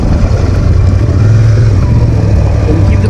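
A loud, steady motorbike engine rumble close by, running at a constant pace near Jaisalmer, with rough low noise and no speech.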